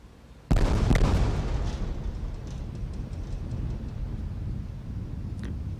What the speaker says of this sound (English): Sonic booms announcing Columbia's arrival in the landing area.